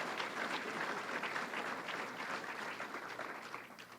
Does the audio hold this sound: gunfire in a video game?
no